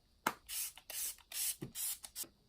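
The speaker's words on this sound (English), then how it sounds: "For setting spray, I'm going to use a Smashbox primer water." Several short hissing bursts of Smashbox primer water setting spray, each lasting about a third of a second, spaced irregularly and close by, with no talking.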